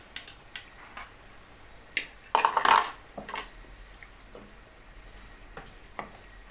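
Onions and peppers caramelizing in a pan for a Turkish green bean and egg dish give a soft, steady sizzle, broken by a few clinks and a short burst of louder scraping and stirring.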